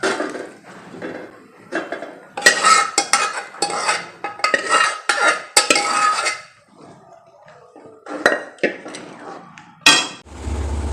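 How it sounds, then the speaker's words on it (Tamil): Cooked chickpeas for chana masala being mashed with a wooden masher inside a pot, heard as repeated close thumps and scraping knocks in uneven bursts, with a brief quieter pause midway. "அதையும் கொஞ்சம் மத்தில் நசுக்கி விட்டுட்டு"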